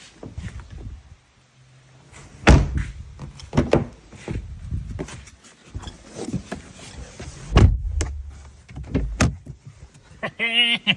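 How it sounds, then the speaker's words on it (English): A car's rear door shuts with a firm thud after a latch repair, amid handling clicks and clunks around it, with a later whirring mechanical sound near the end. "then I'll shut the door and see if it works"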